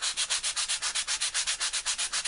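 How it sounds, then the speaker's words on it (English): Worn, fairly fine scrap sandpaper rubs back and forth on wood in quick, even strokes, roughly eight per second, close and steady throughout with no talking. "Okay, so I've just got a bit of old scrap sandpaper."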